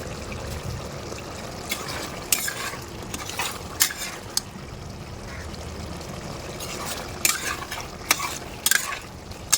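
Goat liver in green masala is stir-fried in a pan, with a steady sizzle broken by repeated sharp spoon scrapes and clanks against the metal, moderately close.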